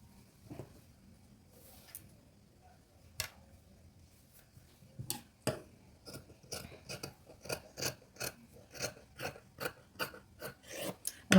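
Scissors snipping through fabric to shape an armhole, starting with a few scattered cuts and then settling into a steady run of crisp, close blade snips.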